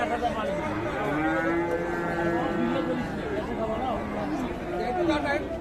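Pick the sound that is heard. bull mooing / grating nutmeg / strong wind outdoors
bull mooing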